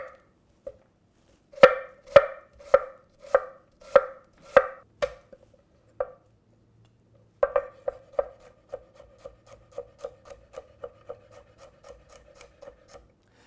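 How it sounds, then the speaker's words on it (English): A kitchen knife chops garlic and onion on a cutting board in a recipe for pasta with Swiss chard: sharp, close taps in a steady series, a short pause, then faster, lighter strokes that gradually fade. "I chop the garlic and the onion the same way."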